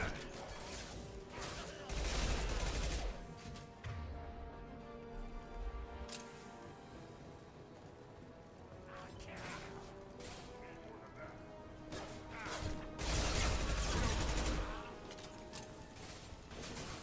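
A Mass Effect 2 firefight with repeated bursts of gunfire and crashing impacts over mechanical game noise, loud in clusters with quieter stretches between.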